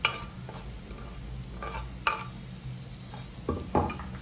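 Bitter gourd fry with chili, garlic and cumin being stirred in a pan, a few distinct scraping clinks of the spoon over a low, steady sizzle, close and moderately quiet with no talking.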